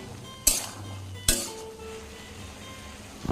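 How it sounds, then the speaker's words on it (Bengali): Boiled food tipped into a steel bowl: two sharp metallic clanks of the pot rim striking the bowl, close and distinct, followed by a faint ringing and quiet shuffling, with no talk. "সেদ্ধ হয়ে গেছে ঢেলে নেব বাটিতে স্টিলের"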